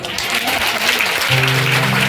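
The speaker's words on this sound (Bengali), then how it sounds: "একটু হাততালি দেবেন না?" Church congregation applauding during a sermon, a loud sustained wash of clapping with a held tone rising beneath it partway through.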